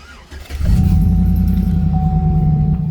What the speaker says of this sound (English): Let me let y'all hear them duals again